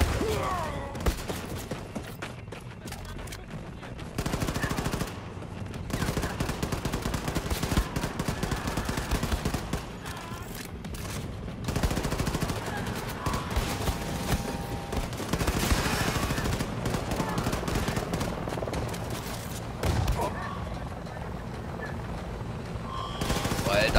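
Sustained gunfire in Wolfenstein II: The New Colossus, with repeated bursts and automatic fire running through a loud, dense game mix, while someone talks over it in places.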